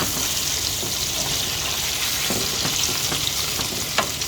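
Butter sizzles in a pan used for pork chops, a continuous close-up frying hiss with scraping and stirring noises from browned bits being loosened at the bottom.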